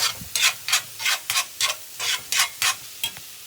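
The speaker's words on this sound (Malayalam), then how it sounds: "അപ്പോൾ എല്ലായിടത്തേക്കും മുട്ട ഇട്ട് ഓക്കെ ചിക്കിക്കൊണ്ടേ ഇരിക്കുക." Eggs and asparagus for a thoran are stirred and scrambled in a pan. A steady run of about eleven quick, close scraping strokes rasps against the pan with a soft sizzle underneath and no talking.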